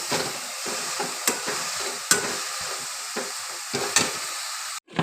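Khesari greens with turmeric and chili powder being stirred in a hot pan, a close, steady sizzle and fry with repeated scraping strokes of the spatula, ending in a brief knock.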